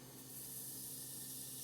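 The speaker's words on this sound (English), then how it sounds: "hear the sizzle" A thin slice of food sizzles in a hot pan with a steady, soft, bright hiss that stays even throughout.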